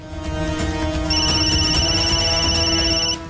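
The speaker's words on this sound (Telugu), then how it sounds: "ఇదేదో ఇంటర్నేషనల్ కాల్ లా ఉంది, దీన్ని మిస్ చేయలేను" A phone rings with a repeating electronic ringtone melody, close and clear, lasting a few seconds before stopping.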